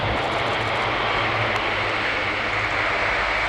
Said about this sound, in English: as we see the aircraft now go into beta thrust and start to reverse up the runway